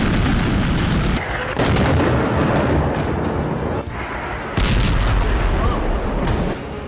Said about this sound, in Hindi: इजरायली एयरफोर्स ने इस बार बेरूत में टारगेटेड हमला किया।